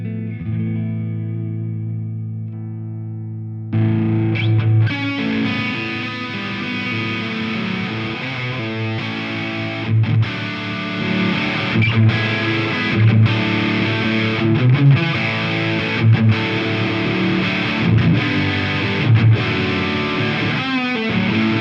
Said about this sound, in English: take this pedal and it will sound like a raging Marshall into a super clean amp